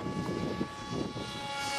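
A radio-controlled MF-x36 Jepson model airplane flies with a propeller buzz, a steady thin drone that wavers slightly over a brief moment.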